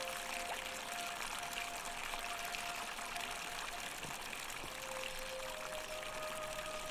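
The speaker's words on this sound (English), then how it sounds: "A fountain producing fresh water, which is coming from the aqueduct behind it." Fountain in The Forgotten City game, fed by an aqueduct, pours fresh water in a steady, even rush with no break, moderately loud and alone, with a faint tonal hum underneath.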